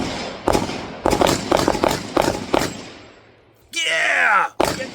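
Several Beretta APX pistol shots crack at an outdoor range, sharp and loud with short gaps, followed by a cheering shout and another shot.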